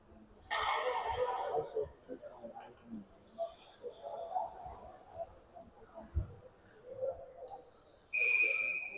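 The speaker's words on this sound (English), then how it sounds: "We get a whistle." Referee's whistle at an ice hockey game between the Rampage and Blue Jackets, blowing for icing late in the third period: a loud, shrill blast at the start and another near the end, over rink crowd noise and a commentator's voice.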